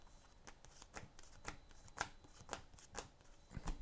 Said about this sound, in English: We might end up with a very bad shuffle here because it's in decklist